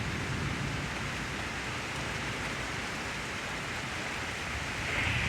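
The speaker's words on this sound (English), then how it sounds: "There's the rain." Steady rain falls in a severe thunderstorm in Pittsburg, Kansas, a constant soft hiss of drops heard from a distance with no talking.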